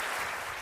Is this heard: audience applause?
yes